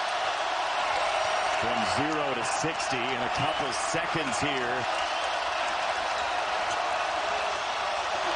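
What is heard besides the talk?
home crowd cheering at Carver Hawkeye Arena basketball game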